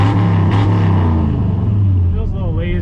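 A Ford F100 truck roars hard on a drag strip pass, a loud, close, deep engine drone that holds strong before easing off, with a voice talking over the final moments.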